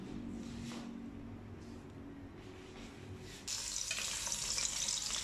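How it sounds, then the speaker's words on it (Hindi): Ginger and garlic sautéing in hot oil in a kadhai: a steady, fairly loud sizzle that grows sharper and brighter partway through, with no talking. "ये अदरक लहसुन डाला कढ़ाई में। ठीक है, इसको हम थोड़ा सा सौते करते हैं।"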